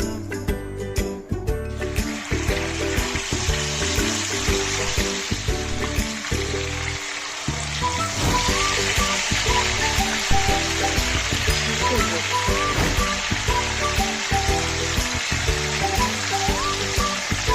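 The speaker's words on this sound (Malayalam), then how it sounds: "ഇല്ലെങ്കിൽ നേരെ തന്നെ നല്ല ചൂടെണ്ണയിലോട്ട് ഇതിനെ ഒന്ന് ഫ്രൈ ചെയ്തെടുക്കാം" Marinated chicken pieces frying in hot oil, a loud, dense, continuous hiss and bubbling right up close, with a low hum beneath and faint speech-like murmurs now and then.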